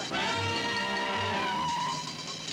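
A car pulls away with tires skidding in a cartoon-style scene, a loud continuous squeal over a revving engine and shifting tones that fade slightly as it moves off, without speech.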